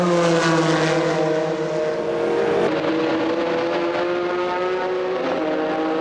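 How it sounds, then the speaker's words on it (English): A Judd-engined Reynard prototype in the 675 class at Le Mans in 2001 screams past on a damp night, a loud sustained engine note with a pitch drop as it goes by and a gear change. "That's the Judd engine Reynard in the 675 class, the Dick Barbour entered car number 36"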